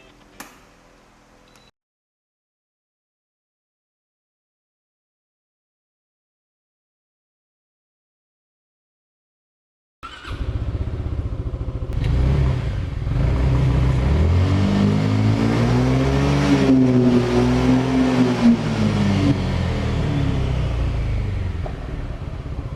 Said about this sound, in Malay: Enjin datang 368cc, single cylinder 4 stroke. Enjin pakai CVT. Inilah bunyi dia.